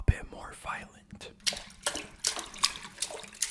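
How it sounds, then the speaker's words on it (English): Milk is poured for a homemade sound effect, giving a run of irregular splashy gushes that grow more agitated partway through. A soft voice murmurs near the start before the pouring takes over. "As the milk pours, it might get a little bit more violent."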